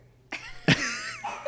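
A single cough, sharp and close, followed by a brief breathy trailing sound.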